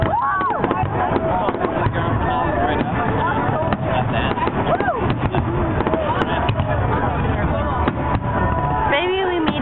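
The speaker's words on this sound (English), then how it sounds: "Maybe we made it to the fireworks." Fireworks explode in a rapid, dense barrage of cracks and booms at an outdoor display, loud and continuous throughout, with whistling rockets rising near the end and people talking underneath.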